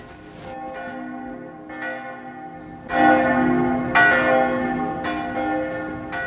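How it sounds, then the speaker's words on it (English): Church bells of Florence chime in a slow sequence of resonant strikes, each ringing out and overlapping the next, moderately loud with no talk. "the clocks of Florence chiming long"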